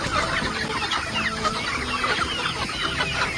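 Free-range native chickens and chicks pour out of their coop in the morning, a dense, loud chorus of close clucking and chirping that runs steadily throughout.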